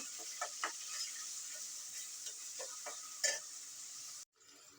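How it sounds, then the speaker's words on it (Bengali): Onions, a quarter cup, stirred and fried in a pan for a chicken curry with papaya and mung dal: a steady close sizzle with scattered scraping stirs and one sharper utensil clack, then the sizzle drops away abruptly near the end. "এবার পেঁয়াজটাকে আমি সুন্দর মতো ব্রাউন করবো, নেড়ে নেড়ে ব্রাউন কালার করে নেব"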